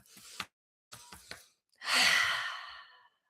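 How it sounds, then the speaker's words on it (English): A single deep, drawn-out breath, close and fairly loud, taken during a guided new-moon meditation, rising and fading over about a second after a few soft breathy sounds. "Now, take a deep breath again."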